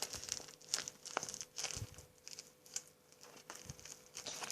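Soft plastic crinkling and crackling from repeated squeezes of a homemade banana-shaped squishy toy with a plastic bag inside, quiet and close, in irregular bursts.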